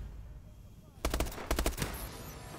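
A burst of rapid automatic gunfire from the Call of Duty video game, five or six sharp shots in about a second, follows a quiet stretch and then trails off.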